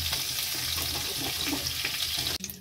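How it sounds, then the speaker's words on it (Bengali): Chicken pieces fry loudly in oil in a pan for a home-style chicken curry, a dense, close crackling sizzle with light stirring clatter, cutting off sharply near the end. "মাংসটা হালকা করে ভেজে নিচ্ছি, কিছুক্ষণ নেড়ে চেড়ে নিচ্ছি।"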